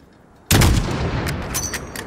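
A single loud rifle shot from Call of Duty: Modern Warfare fires from long range at a house, a sharp crack with a booming low tail that rings on for over a second.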